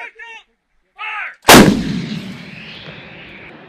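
A field artillery gun fires a single explosive direct-fire round during Army training, a huge sudden boom followed by a long rolling rumble that fades over a couple of seconds, preceded by shouted commands.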